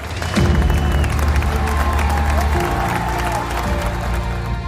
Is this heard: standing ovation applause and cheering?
yes